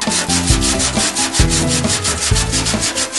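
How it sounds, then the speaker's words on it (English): Rough, pitted spots on the steel body of a Ford F100 truck being sanded smooth, a loud steady rasping scrape with rhythmic strokes throughout, no voices. "We're sanding out the rough spots."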